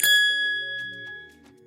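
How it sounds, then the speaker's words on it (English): A single bright bell ding like a shop-entrance door chime rings out clearly and close, its metallic tone sustaining and slowly fading with a few soft clanging overtones. "Think about like when you walk into a store and you hear that bell."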